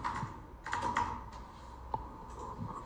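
Fingers tap on a computer keyboard while code is entered in C, a steady run of light, close clicks with a few brief pauses and one sharper keystroke near the end.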